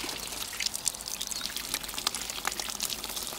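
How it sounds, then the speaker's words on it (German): Water flushes out of a diesel particulate filter being rinsed during cleaning, a steady pouring trickle with small splashes, fairly close and without talk. "wie das Wasser schon rauskommt."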